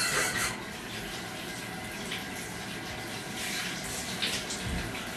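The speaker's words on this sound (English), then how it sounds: "Turn on the faucet, wash your hair," A bathtub faucet runs in a steady, close gush of water that fills the tub, holding even through the whole stretch with no talk over it.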